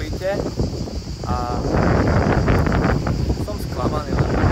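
Strong wind blows in Split, Croatia, as a steady gusting roar across the microphone, with someone talking over it in places.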